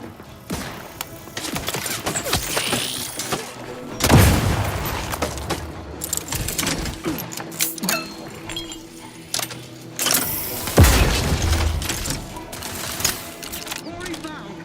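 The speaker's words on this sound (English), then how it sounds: "Explosion imminent." Explosions in the video game The Outer Worlds 2: two heavy booming blasts, several seconds apart, over busy game sound effects.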